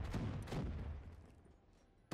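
Rapid gunfire and explosive bursts from a China Lake grenade launcher in Black Ops 3 Zombies, loud close reports in the first second then fading into a decaying rumble, with a sharp hit at the end.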